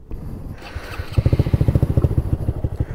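A custom-built motorcycle engine with a Chimera intake and K&N filter idles with a deep, loping rumble that builds into a steady throbbing pulse, loud and close, with no talking.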